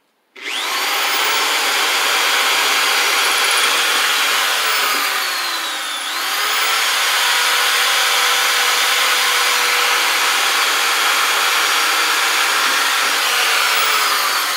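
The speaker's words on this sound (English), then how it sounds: "now we're just going to drill here" A power drill bores into a ceiling to mount a clawfoot tub shower curtain ring support, whining loudly and steadily with a brief dip in pitch partway through before resuming.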